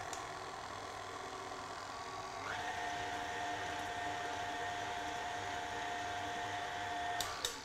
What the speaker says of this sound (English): And then just get that back on and give it a quick whiz.